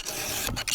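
A file rasps across the cutting teeth of a 20- or 22-inch chainsaw ripping chain during sharpening, a short, close, gritty scraping stroke with a brief pause near the end.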